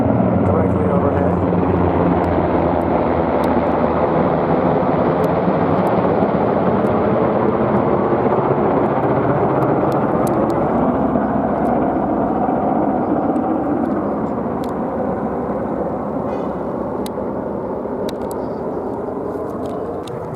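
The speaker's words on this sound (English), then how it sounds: "2 military-style helicopters, black, flying directly overhead" Two black military-style helicopters pass directly overhead, a loud, continuous rotor and engine roar that holds steady for the whole stretch and eases only slightly toward the end.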